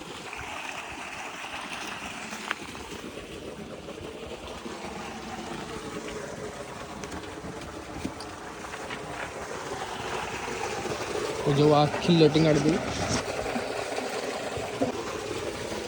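Irrigation water runs steadily at a village farm, a continuous broadband wash with a brief louder gush midway, while a person talks over it.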